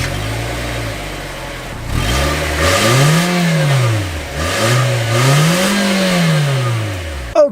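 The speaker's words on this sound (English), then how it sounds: "Okay, so setting off in the 2023 Versa." A 2023 Nissan Versa car pulling away from a stop, the engine revving up through two rising and falling gear pulls, loud and close from inside the cabin, with no one talking.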